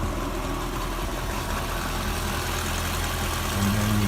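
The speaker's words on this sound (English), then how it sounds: "you'll hear noise coming from underneath the car where the driveshaft meets the transmission" A steady low mechanical drone rises from underneath a 2014-2019 C7 Corvette, a driveshaft bearing noise where the driveshaft meets the transmission or rear differential, continuous and fairly loud with a faint whine near the end.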